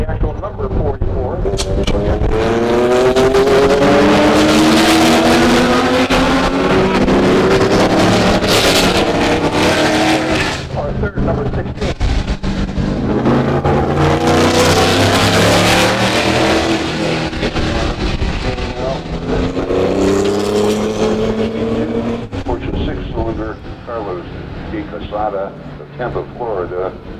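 A Group 44 Jaguar race car at the Laguna Seca Corkscrew, its engine loud and rising and falling in pitch as it passes, with people talking over it throughout.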